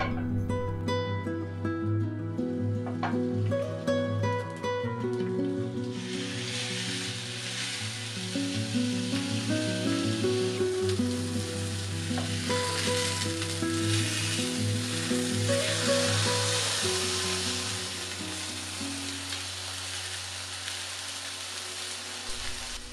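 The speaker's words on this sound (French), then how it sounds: "on pourra les dorer délicatement dans une poêle huilée en même temps que la cuisson de la viande" Ramen burger buns browning in an oiled frying pan alongside cooking meat, a steady sizzle that swells after the first few seconds and runs under a constant hum and tonal background music, with no speech.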